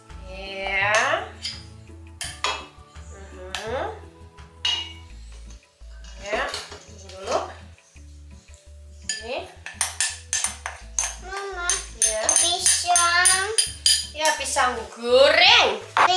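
A utensil clinks and scrapes against a bowl while rice flour batter for crispy fried bananas is mixed, in irregular bursts of clatter with occasional talk in between.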